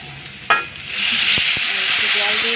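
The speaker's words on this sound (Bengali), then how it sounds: "সামান্য একটু জল দেব জল দিয়ে কষাবো" A splash of water hits frying masala in a hot pan and sets off a loud hissing sizzle, followed by a few knocks of a spoon stirring, close by.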